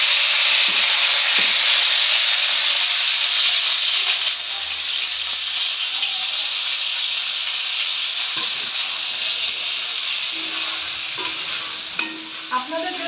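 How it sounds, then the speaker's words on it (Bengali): Cauliflower pieces frying in oil left in the pan after frying fish, a steady close sizzling hiss that carries through the whole stretch, with occasional light clinks of a utensil. "এবার আমরা ফুলকপিটা ভেজে নেব।"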